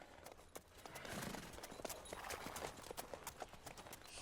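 A horse's hooves clip-clop in The Witcher 3: Wild Hunt, a dense, fairly quick run of hoof beats against faint ambient game noise, with no voice.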